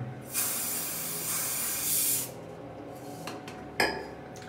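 Hairspray is sprayed onto a mustache in one sustained hissing burst of about two seconds, followed by a few shorter, quieter spritzes nearby.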